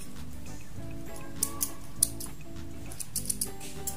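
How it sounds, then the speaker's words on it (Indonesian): Scissors snip crochet yarn in a few quick, small clicks at the end of making a knitted mask connector, close and faint over a steady background hum. "Gunting benangnya"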